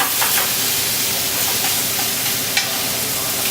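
Garlic sizzling loudly in a hot pan with shrimp and tomatoes while cooking shrimp scampi, a steady close frying hiss with a few brief stirring clicks and pops, no talking.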